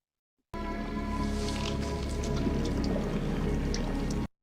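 Sewer water pouring and gushing in the prison-escape film The Shawshank Redemption: a steady, loud, continuous rush of liquid lasting several seconds, with no talking over it.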